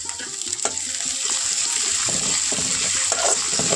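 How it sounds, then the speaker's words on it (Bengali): Onions, grated ginger and chopped green chilies fry in a pan for an echor chingri dish, giving a steady broadband sizzle with scattered stirring clatter throughout, close and fairly loud. "এগুলোকে ততক্ষণ ভেজে নেব যতক্ষণ না আদার একটা কাঁচা গন্ধ চলে যায়"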